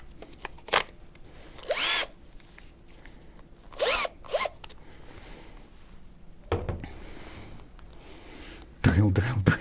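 Power drill in a hardware store, short bursts of whirring drilling separated by pauses, close and fairly loud, with people talking in between.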